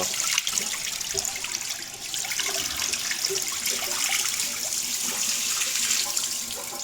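Steady rushing water, carrying ash and sand, pours out continuously during cleaning on a Skoda Octavia 2.0 TDI EA288 diesel: a broad hiss with splashy texture that holds at an even level throughout.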